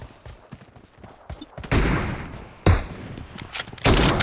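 Gunshots ring out in a PUBG Mobile 2v2 match with M24 and Kar98 sniper rifles, a few sharp, loud cracks a second apart after some quieter clicking, each shot trailing off in a short echo.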